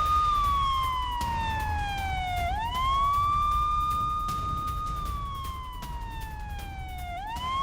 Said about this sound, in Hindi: कई इलाकों में अब भी यहां पर एयर रेड सायरन बज रहे हैं